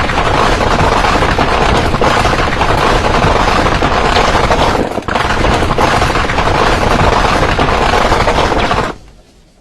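A Gatling machine gun fires in a continuous, extremely rapid roar lasting around nine seconds with only a brief dip midway, its rounds striking a target, loud and close before ending sharply.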